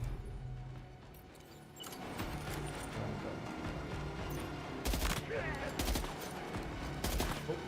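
Rapid gunfire crackles through a Death Stranding 2 firefight in repeated sharp bursts over a dense rumble of game noise, with a voice talking quietly underneath.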